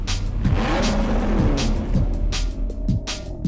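Jaguar XKR-S sports car engine accelerating hard, a loud, close roar rising in pitch through several gear changes with a rough, throaty edge.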